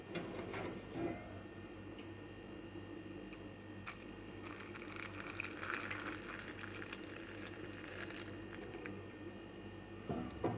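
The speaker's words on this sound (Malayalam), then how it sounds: "ഇതിലോട്ട് നമുക്ക് ചൂടുവെള്ളം ഒഴിച്ചിട്ട് അരമണിക്ക് കുതിർക്കാൻ വയ്ക്കാം" Hot water pours onto dry red chillies in a bowl for Schezwan sauce, a soft, steady splashing trickle that runs on for several seconds, close and fairly quiet, with no one talking.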